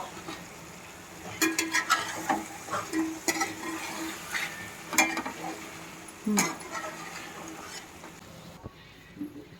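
Spoon scraping and clinking against a pot while a handful of chopped mint and coriander is mixed into chicken pulao, in irregular strokes over a low background, ending in near quiet.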